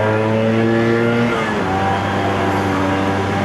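A Suzuki Shaolin motorcycle pulls hard at full throttle, its loud, close engine note climbing in pitch, then briefly dropping at a gear change before rising again.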